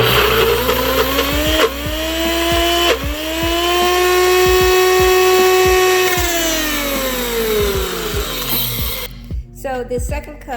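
A blender runs on hummus: the motor spins up with a loud, steady high whine, holds for several seconds, then winds down, with light rattling clicks underneath.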